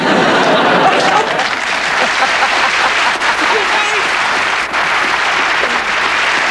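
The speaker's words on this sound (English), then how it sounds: "You're getting applause already with my look" A television studio audience claps steadily and warmly for several seconds at a comedy chat show, dense close applause that dips briefly near the end.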